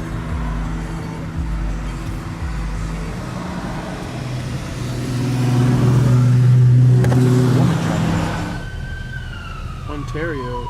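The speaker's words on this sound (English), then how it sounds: "I want to see a Ferrari on the track." Supercars, among them a Ferrari 458, passing on a track, with engines swelling as they approach and accelerate by, then fading. A siren-like whine follows, and voices talk over it.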